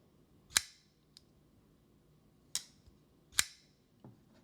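A Shirogorov Stellaris custom pocketknife snaps open three times with sharp, crisp metallic clicks spaced a couple of seconds apart, each followed by a fainter tick, close and loud against a quiet background.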